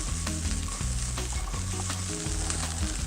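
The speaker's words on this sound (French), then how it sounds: "Alors j'ai une poignée de châtaignes à peu près. Donc on va juste les colorer un tout petit peu," Already-cooked chestnuts brown in a hot pan, giving a dense, loud, continuous sizzle and crackle up close, with faint stirring knocks and no speech.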